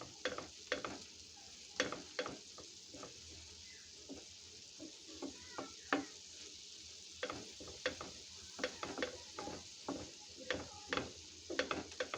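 Amaranth stems (data shak) stir-fry directly in hot seasoned oil in a pan, with a soft, steady sizzle under repeated sharp scrapes and taps of a spatula at an irregular rhythm.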